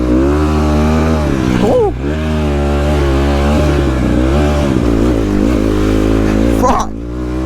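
Dirt bike ridden on rainy trails through puddles, its engine loud and close with a steady droning rev that dips and surges, while a rider exclaims briefly over it.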